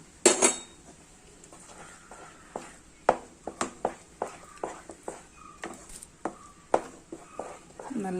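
A spoon scrapes and knocks against a pan while thick mango halwa is stirred, giving a steady series of sharp metallic clinks and taps at close range, irregularly spaced.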